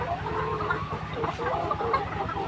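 Layer hens about 149 days old, already laying eggs, cluck steadily in a poultry farm house, a dense overlapping chorus of soft clucks over a low, constant mechanical hum.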